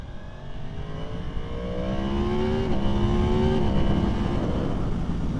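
A 2023 Yamaha MT-10 motorcycle engine runs under light throttle on a street ride. A steady, close rumbling drone rises gently in pitch and load and holds there, with wind buffeting mixed in and no talking.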